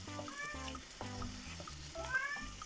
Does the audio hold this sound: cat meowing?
yes